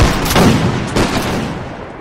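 A musket volley rings out in a Napoleonic Wars battle game: a close, loud crackling burst of overlapping shots, then a second ragged burst about a second later, each trailing off into rumbling echo.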